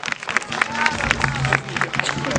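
Audience applause at a boarding school theatre play, loud clapping mixed with crowd chatter and talk, steady throughout.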